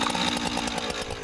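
A real chainsaw on a horror film set runs at full throttle, close and loud. The buzzing engine drone is steady and fills the whole short stretch with nothing else heard.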